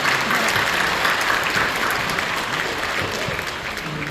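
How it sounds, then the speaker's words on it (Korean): Congregation applauding during a New Year's Eve church worship service, a steady, dense wash of many hands clapping throughout, full and close with no speech over it. "박수로 주십시오."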